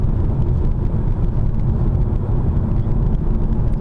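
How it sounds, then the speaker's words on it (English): A car drives along a countryside road in Canada in September, a steady close roar of engine, tyres and wind noise that holds unbroken throughout, with no talk. "Driving in the countryside."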